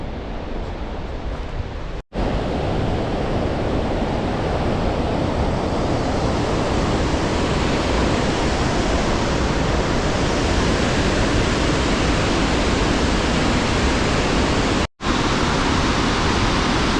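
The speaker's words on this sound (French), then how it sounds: "Deuxième cascade." A Norwegian waterfall roaring loud and close, a dense, unbroken rush of falling water that fills the whole clip.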